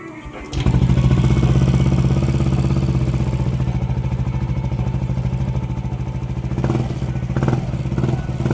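A Yamaha NMAX 155 scooter engine sputters to life after a brief quiet start, then runs steadily at a low, rattly idle with slight fluctuations, close and loud.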